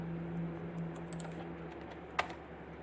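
A computer keyboard is typed on while a programming example is run: a few faint, sparse keystrokes with one sharper click near the end, over a steady low electrical hum.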